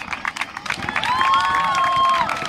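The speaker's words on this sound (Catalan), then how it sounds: "un aplaudiment, sisplau" A crowd at a Fridays for Future climate march claps and cheers in a loud, steady burst, with a thin whistle cutting through midway.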